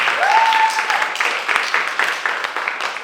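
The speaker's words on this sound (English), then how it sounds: "Maria Kouvaros, another round of applause." Applause from a crowd at a poetry slam, steady clapping with a short whistle at the start, fading slightly over a few seconds.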